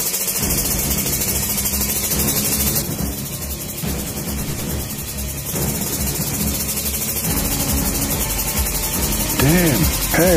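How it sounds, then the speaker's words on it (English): A motorbike engine in the Free Fire video game runs steadily and loudly the whole time, a continuous droning, vibrating rumble that stays close and constant. "Your motorbike is very noisy."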